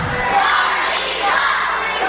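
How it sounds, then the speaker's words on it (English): Loud, dense crowd of about 250 fans shouting and cheering at a wrestling anniversary show, a sustained roar with no breaks across the whole stretch. "Loud crowd here."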